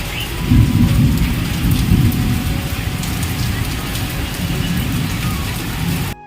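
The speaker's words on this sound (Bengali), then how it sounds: "এখানে এখন বৃষ্টি হচ্ছে" Heavy rain pours down steadily in a thunderstorm, a loud dense roar that swells early on, with no voices heard.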